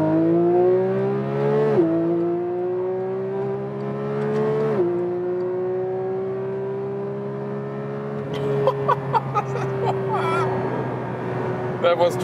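A Porsche 911 GT3 Touring (992) in track mode pulls hard from 30 km/h: a loud, continuous engine tone rising steadily through several gears, with brief dips at each shift and some clicks and rattles late in the run.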